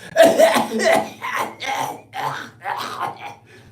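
A person imitates a raspy, hacking cough in a string of rough, loud bursts, close to the listener.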